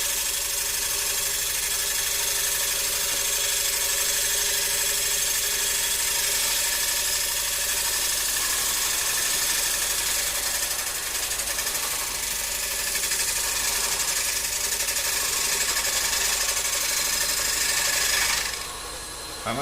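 A lathe running while turning a workpiece on centre, a steady high whine with a rasping cutting hiss held at an even level, close and continuous, cutting off abruptly near the end.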